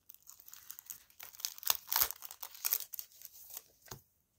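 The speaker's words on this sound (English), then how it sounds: "So let's take them out the packaging." Sheets of stationery stickers are pulled from crinkly plastic packaging, giving close, soft rustling and tearing that swells and fades over a few seconds.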